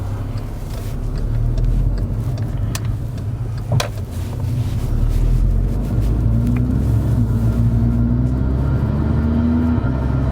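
A 330-horsepower automatic car's engine rumbles steadily inside the cabin while accelerating, a deep continuous drone with a gradually rising tone and a few faint clicks, with no talking.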